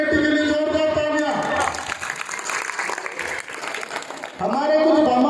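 Audience applause for a committee at a local devotional and cultural event, a burst of clapping in the middle framed by a speaker's amplified voice before and after.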